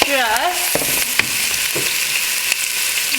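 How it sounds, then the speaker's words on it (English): Steady, loud sizzling of onions frying in a pan, continuous hiss throughout with a few clinks and stirring sounds. "deep frying them apparently"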